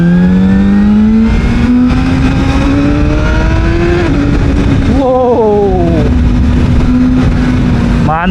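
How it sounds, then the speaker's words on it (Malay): A ZXMOTO 500RR motorcycle is revved hard to high RPM on a test ride, its loud engine note climbing steadily, dropping briefly at a shift, then rising again, continuous and close throughout. "Memang kena tarik RPM panjang lah,"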